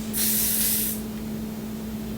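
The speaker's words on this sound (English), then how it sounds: "I don't know why my spray is not coming out." A bottle of hair spray hisses out one short, bright spray burst lasting about a second, close by, with a steady low electrical hum beneath it.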